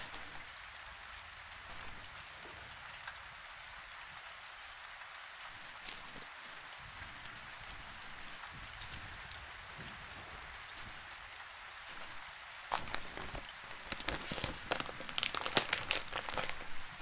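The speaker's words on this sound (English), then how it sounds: "Just hoping it stops raining by the time I get up." Steady rain falls in the survival game Survisland, a continuous close hiss of drops that grows louder and more crackling toward the end, with no one talking.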